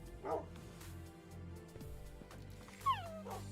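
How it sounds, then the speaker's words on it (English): Dogs in the Minecraft video game give short whimpers and a few yips and barks at a low level over quiet game background, with no speech. "The dogs are really starting to get on my nerves"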